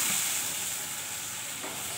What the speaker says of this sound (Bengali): ফোড়ন দিয়ে দিচ্ছি, কালো জিরা দিয়ে দিচ্ছি, জিরা দিয়ে দিচ্ছি